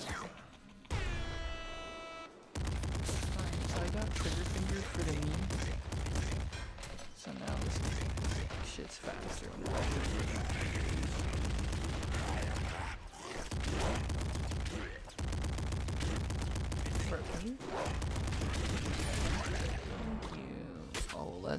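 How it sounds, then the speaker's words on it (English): Triple machine gun firing in a video game, dense rapid continuous bursts broken by short pauses, loud and close, with someone talking briefly at the start. "Let's go triple machine gun for the memes."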